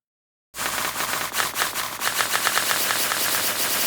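A Serum synth noise-oscillator layer bursts in after a brief silence as a loud, dense, crackling rattle, like rapid-fire clatter, holding steady with fluttering pulses to the end.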